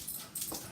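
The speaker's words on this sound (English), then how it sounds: "My dog's trotting along behind him." A dog gives a short, soft whimper, faint and close, with brief high whining notes over a quiet indoor background.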